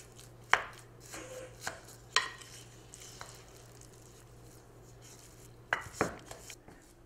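Minced garlic, herbs, spices, ground pork and bacon are mixed together in a bowl, with scattered utensil clicks and knocks and soft squelching, fairly quiet.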